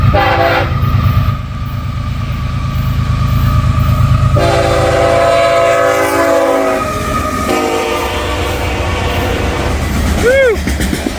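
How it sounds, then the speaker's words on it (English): Northbound freight train passing close and loud, rumbling wagons with clickety-clack under a rising horn blast near the end; a person talks over it. "got another train coming northbound"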